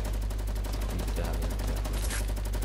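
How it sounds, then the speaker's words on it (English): A Fortnite shotgun fires rapid, repeated blasts over steady game wind noise and a low hum. The shots sound close and loud. "Did you hear it? This shotgun."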